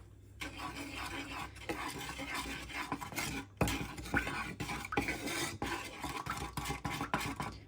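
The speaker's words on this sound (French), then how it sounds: "On mélange bien le sel." A spoon scrapes and stirs steadily through margarine and butter melting with a pinch of salt in a pan for Algerian tamina, with light clinks and a soft continuous sizzle.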